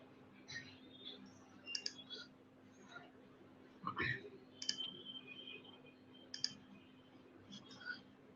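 A computer mouse gives a few faint, scattered clicks over a quiet room hum while saving a floor plan in software, with soft talk in between.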